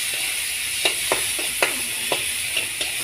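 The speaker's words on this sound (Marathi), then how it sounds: "थोडंसं टमाटर असं परतून घ्यायचा" Chopped tomatoes and onion sautéing in a pan for poha, a steady bright sizzle with soft scraping stirs at irregular intervals every half second or so, close and loud with no talking.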